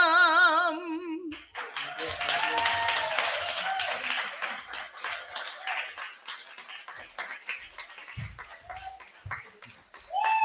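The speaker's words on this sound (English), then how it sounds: "Let's give Pat Smith another round of applause." Audience applause at a faith leaders' gathering on ending the HIV epidemic in Jackson, Mississippi, sustained clapping with some cheering, moderately loud and continuing for several seconds after a brief musical tone.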